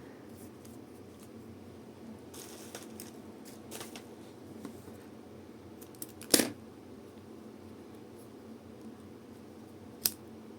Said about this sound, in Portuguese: E vou cortar e arrematar.